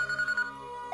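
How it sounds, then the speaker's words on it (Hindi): Telephone ringing in a domestic scene, a steady electronic ringtone tone pulsing in short repeated bursts, fairly loud and alone with no talk. "फोन उठाओ बेटी"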